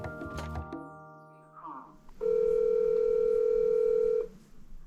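An outgoing phone call: after a few clunks and button sounds, a single sustained ringback tone sounds clearly for about two seconds before cutting off.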